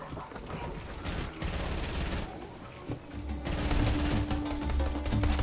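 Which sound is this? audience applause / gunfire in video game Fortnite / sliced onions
gunfire in video game Fortnite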